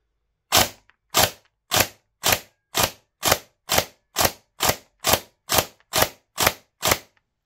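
A Silverback MDR-X airsoft rifle fires BB rounds one at a time, about a dozen sharp, evenly spaced cracks roughly every half second, close and loud with no talk.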